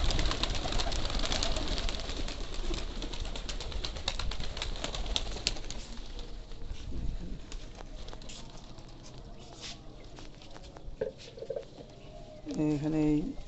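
A flock of pigeons coo and shuffle about at feeding time, soft calls mixed with patters and wing flutters, while a voice talks nearby.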